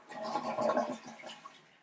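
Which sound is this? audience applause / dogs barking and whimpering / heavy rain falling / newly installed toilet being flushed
newly installed toilet being flushed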